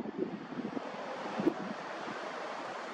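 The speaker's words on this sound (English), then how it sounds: "Lots of wind, wow, lots of wind." Strong wind roars steadily across an outdoor microphone near an osprey nest by a skatepark, a continuous rushing blast with a few harder gusts and buffeting thumps.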